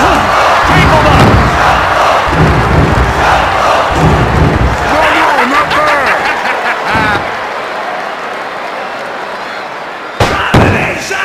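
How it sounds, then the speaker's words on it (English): Loud arena crowd cheering and roaring in the WWF Attitude wrestling video game on Dreamcast, with heavy body slams and impacts thudding over the steady crowd noise before it drops off near the end. "This crowd is electric! Everyone's up!"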